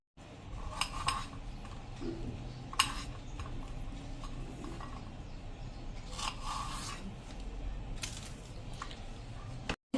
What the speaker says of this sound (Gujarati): તો આ રીતે આપણે બધો ભીંડો સમારી લેશું